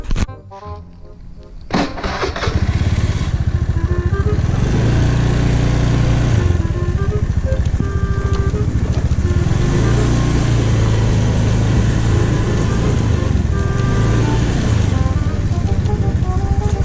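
A Honda Scoopy Prestige i fuel-injected scooter engine runs close by after a brief startup, settling into a steady, loud motor drone that holds for the rest of the stretch with no talking.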